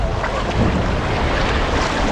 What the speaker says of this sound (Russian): Была сильная волна.